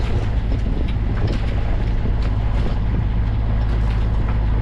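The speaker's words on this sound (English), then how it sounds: "Engine off at 6:27 and we're sailing." Sailboat under sail with its engine off at sunrise, a steady rush of water along the hull and wind buffeting the microphone, loud and continuous with no voices.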